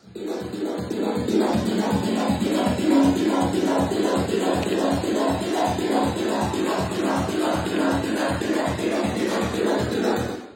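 An Access Virus synthesizer plays a steady sequence of recorded trigs. Fast, evenly spaced rhythmic pulses with a buzzy tone repeat for about ten seconds at a moderate level, and no one speaks.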